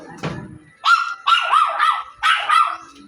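Several dogs bark in short, repeated bursts, close and loud, with a brief gap after an opening yelp and no talking over them.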